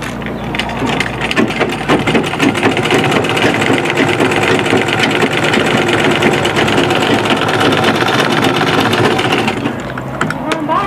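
Close and loud, a sewing machine stitches a scrunchie in one sustained run, its rapid mechanical chatter and whir continuing for about ten seconds before easing off at the end.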